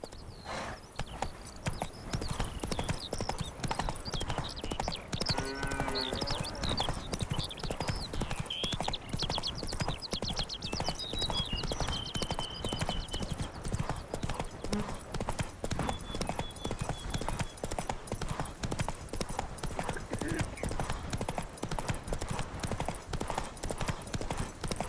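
Horse hooves gallop in steady rhythmic clip-clop in The Witcher 3: Wild Hunt, Blood and Wine expansion. The hoofbeats are loud and close and continue throughout, a brief whinny and game music sit underneath, and a voice speaks briefly.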